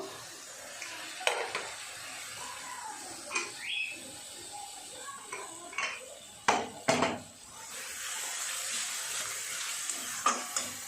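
Spice paste being stirred in a pan before potatoes go in: soft frying sizzle underneath, punctuated by sharp clanks and scrapes of a utensil against the metal pan, several loud knocks near the middle, then a steadier hiss.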